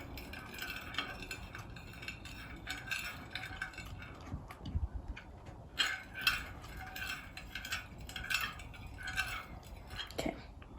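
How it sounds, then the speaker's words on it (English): A metal spoon stirs a thin layer of liquid in a dish, scraping and clinking in uneven bursts with soft rattles, close and fairly quiet, no talking. "grab your spoon and you stir it up"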